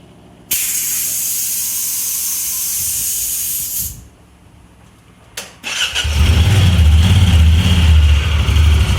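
Compressed air is released from a Monroe air shock on a Talon in a loud, steady hiss lasting several seconds. It cuts off with a click, then a low rumbling noise follows.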